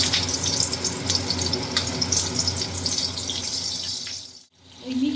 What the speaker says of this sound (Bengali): আমি কালো জিরে দিয়ে দিলাম এরপর আমি এর মধ্যে দিয়ে দিচ্ছি চেরা কাঁচা লঙ্কা কয়েকটা